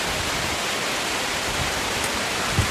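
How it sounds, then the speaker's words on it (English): Heavy rain pours steadily during a mountain trek to Malayattoor Kurishumudi church, a dense, even hiss filling everything up close with no voices. "It's pouring rain over here."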